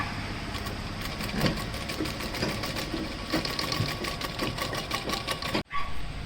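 Sewing machine stitching a small inner pocket onto bag lining, a fast, even mechanical rattle of needle strokes running close and continuous, with a brief stop and restart near the end.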